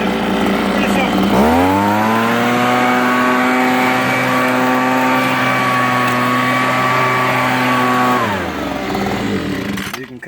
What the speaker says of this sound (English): this is your Homelite blower vac